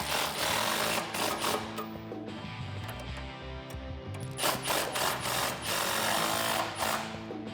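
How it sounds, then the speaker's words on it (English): A 17 mm wrench and socket working a sway bar bolt on a 2005-2014 Mustang, giving a fast, continuous mechanical rattle close by, briefly easing midway before resuming at full loudness. "We're gonna use a 17 millimeter wrench for the head of this bolt and a 17 millimeter socket for the backside nut"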